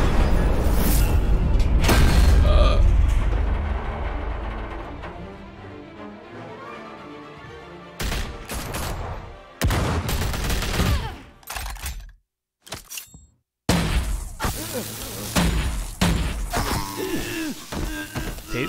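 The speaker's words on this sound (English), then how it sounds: "laser guns" Laser guns fire in the Batman Telltale video game, a burst of sharp blasts and mechanical clanks with booming impacts, broken by brief silences and then more rapid zaps and crashes.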